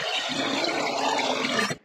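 Water poured off soaking acorn meal, a steady splashing, gurgling pour of tannin-stained liquid lasting almost two seconds before cutting off abruptly, close and fairly loud.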